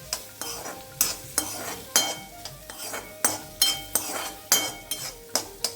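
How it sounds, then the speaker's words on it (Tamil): Spoon repeatedly scraping and clinking in a pan as curry is stirred with Kashmiri chilli and pepper powder, about a dozen sharp strokes in steady rhythm, close and fairly loud, with no talking. "நல்லா மிக்ஸ் பண்ணிக்கலாம்."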